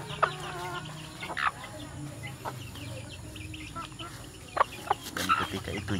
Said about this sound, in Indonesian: Ini tangkapan baru ayam hutan.